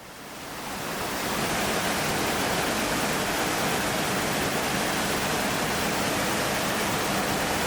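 Watson Falls, a waterfall on an Oregon trail, roars as a steady, dense rush of water that swells in over the first second and then holds loud and unbroken, with no talking.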